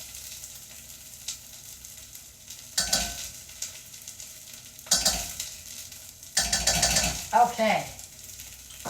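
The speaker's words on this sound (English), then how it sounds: "I don't know if you can hear it sizzle, but it just sizzled." Tomato paste sizzling in a hot pan with bursts of stirring and scraping, loud and close, and a brief spoken word partway through.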